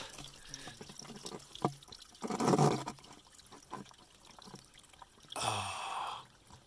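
Cold spring water flowing straight out of a mountainside pours into a bottle on a trail, giving close splashing bursts and gurgles between quieter dripping moments, with no speech.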